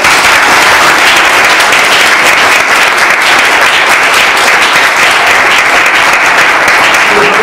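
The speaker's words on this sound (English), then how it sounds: "let's give her a round of applause." A large audience at a speech evaluation contest claps steadily and loudly throughout, a dense continuous wash of applause with no pauses.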